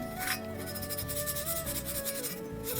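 A pot scrubbed by hand, a continuous close rasping rub with rhythmic back-and-forth strokes and no talking.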